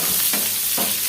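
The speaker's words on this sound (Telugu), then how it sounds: "సో చూస్తున్నారు కదా ఇలాగైతే కలుపుకోవాలి." Tomato stirred into a frying masala curry with cauliflower, brinjal and potato: a steady loud sizzle with a couple of soft scraping stirs, close up and with no voices.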